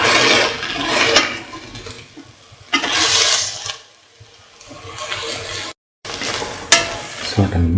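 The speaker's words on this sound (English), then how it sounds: "Keep on stirring." A spoon stirring lemon long yard bean rice in a pan, steady scraping and gentle sizzling in several loud sweeps, with a short silent break near the end.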